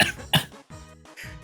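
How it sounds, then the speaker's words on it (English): A person coughs several times in quick bursts, fairly loud and close, in a podcast studio setting, with brief pauses between the harsh, throaty coughs. "even got him coughing over there"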